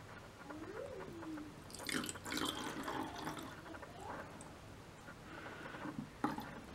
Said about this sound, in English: we need to pour some of the water in